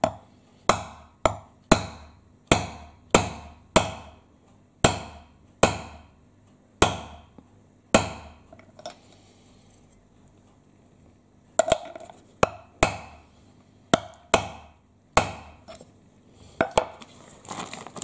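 A hammer sets a metal grommet into a torn tourist tarp during a repair, striking in a steady series of sharp, loud blows with a pause in the middle before another run of hits, no talking.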